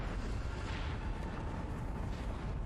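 A deep, sustained explosive rumble roars continuously, dense and loud throughout, like a massive blast rolling on without pause.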